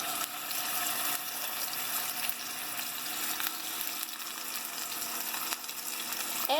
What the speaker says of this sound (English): As soon as the oil starts to sizzle, I'm going to go ahead and drop the steaks in.